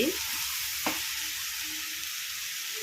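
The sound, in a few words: raw banana (plantain) frying in a pan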